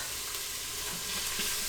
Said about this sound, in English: I'm gonna put that in and hear that sizzle.